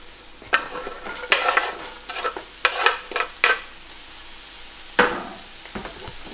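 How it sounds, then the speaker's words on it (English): Chopped onions and celery are stirred through oil in a pan, a soft underlying sizzle punctuated by a series of distinct scraping strokes of a utensil, some close and crisp. "Give that a good mix, incorporate the oil"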